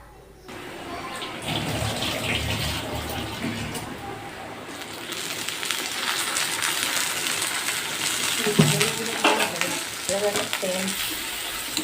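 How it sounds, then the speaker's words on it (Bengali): Chicken pieces frying in a pan as turmeric powder is tipped in, a steady hiss with clinks and stirring scrapes, fairly loud and close throughout with no talking. "এখনও ভাজা চলছে।"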